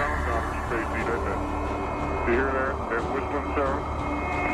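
A warbling, droning electronic hum with wavering tones and steady noisy texture, continuous and eerie throughout; a space radio wave recording.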